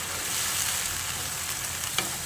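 Tomato paste frying with spices in a pan for Bengali aloo dum gives a soft, steady sizzle, quiet and close, with a faint stir near the end.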